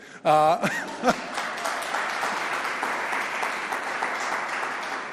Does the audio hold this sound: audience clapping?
yes